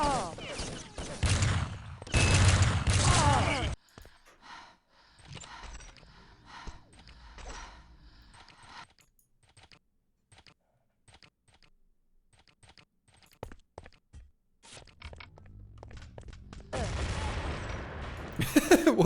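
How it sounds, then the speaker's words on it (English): Explosions and gunfire from a video game match: dense bursts of shots and blasts open the sequence, thin out into scattered clicks and pops, then swell again near the end. "Exploding all over the place."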